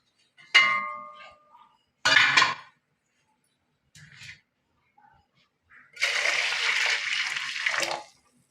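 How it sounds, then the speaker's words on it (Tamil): Water pours into a pot while black rice puttu steams in a home kitchen, a long splashing pour near the end after a few short clanks and brief splashes with quiet gaps between. "தண்ணி பத்தாது, இன்னும் கொஞ்சம் தண்ணி ஊற்றி"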